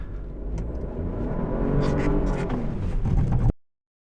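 A 2022 Chevrolet Trailblazer AWD pulls away on a snowy road with traction control off, its engine rising in a steady, swelling rev and rumble before cutting off abruptly.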